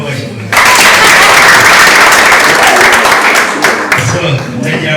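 A crowd applauds loudly at a Rayon Sports club gathering, a dense and sustained wash of clapping that starts abruptly and continues throughout, with voices faintly mixed in.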